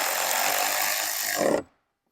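A power tool whirs steadily while tightening a headlight bolt on a BMW X5, a loud continuous buzzing drone that rises slightly just before cutting off abruptly into silence.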